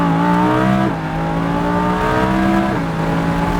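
A Lamborghini Huracán accelerating uphill on the Pacific Raceways track, its engine droning loud and steady from inside the car, pitch climbing through two gear shifts with brief dips between them.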